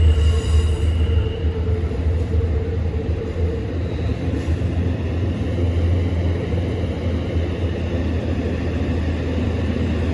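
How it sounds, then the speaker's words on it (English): A heavy, continuous rumble of an Amtrak passenger train rolling past in Manhattan, steady and loud throughout with a low droning hum underneath. "There you go, there's the Amtrak train."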